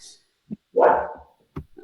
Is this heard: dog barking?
yes